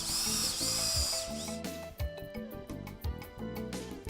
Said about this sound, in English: With an 8 mm concrete drill, drill holes about every 70 cm.